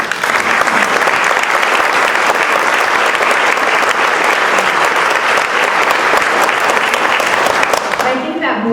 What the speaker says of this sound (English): I think that alone deserves a round of applause